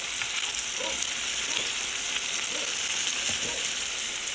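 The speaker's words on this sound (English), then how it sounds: "now I'm going to saute the onions and tomatoes and green peppers" Onions, tomatoes and green peppers sauté in a pan with a dense, constant loud sizzle and faint occasional stirring scrapes, no voices.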